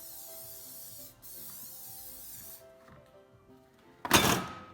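A cooking spray can hisses in a short burst onto a bowl for bread dough, loud and close after quieter kitchen clatter.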